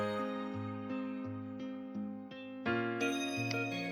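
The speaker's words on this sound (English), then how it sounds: "This is the notification associated with the second execution." Notification chime from Automic Automation 24.4 software: a quick run of bright, melodic electronic tones, about ten notes in steady succession, clean and moderately quiet with no voices.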